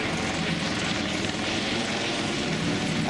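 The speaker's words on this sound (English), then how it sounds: "Helicopter circling around." A helicopter circles over a downtown street, its engine and rotor noise a dense, steady roar that fills the whole stretch without pause.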